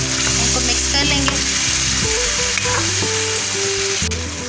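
Mixed vegetables, with about half a cup of water just added, being stirred in a hot pan, a loud continuous sizzle and bubbling with scraping stirs close up.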